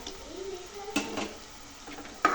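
Manchurian balls fry in a pan at a faint, steady sizzle, with a few sharp utensil clinks against metal and scraping as they are lifted out.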